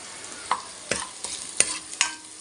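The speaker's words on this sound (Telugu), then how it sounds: "ఉల్లిపాయ వేయించుకుంటూ ఉండాలి. ఉల్లిపాయ చక్కగా వేగింది." Onions fry in a pan under a quiet sizzle, with several distinct scraping strokes of a spoon stirring them at irregular intervals and no talk.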